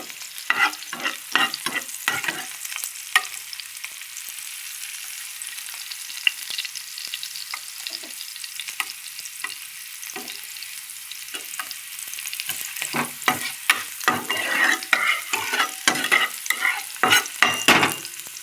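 Garlic and eggplant frying in a pan, a soft continuous sizzle broken by bursts of spatula scraping and stirring, clustered at the start and again toward the end, close and moderately quiet.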